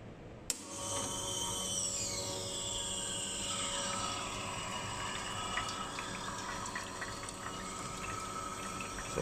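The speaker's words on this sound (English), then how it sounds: "So the machine will refill the boiler water." An Eagle One Prima espresso machine refills its boiler with water, a steady rushing and hissing flow with faint gurgles and a rising pitch that continues quietly and evenly without talk.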